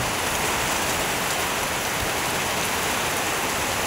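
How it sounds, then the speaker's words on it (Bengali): Heavy rain pours down steadily, a loud dense wash of drops on surfaces with no break and no voices. "1 ঘন্টা থেকে পুরা বৃষ্টি বৃষ্টি।"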